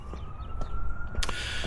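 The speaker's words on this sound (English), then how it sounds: "Here comes an ambulance, so it's gonna be loud" An ambulance siren passes, its sustained wailing tone rising slightly over a rumble of traffic, loud and close for a moment.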